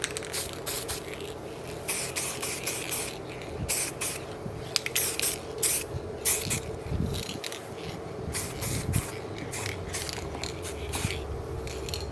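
A spray gun puts coats of U-Pol #11 Trim coating onto car interior trim pieces, hissing in repeated short bursts with brief gaps, close and fairly loud with no talking.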